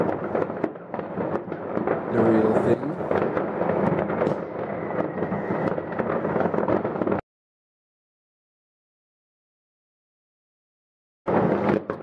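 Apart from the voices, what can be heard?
New Year fireworks exploding in Mijdrecht, Netherlands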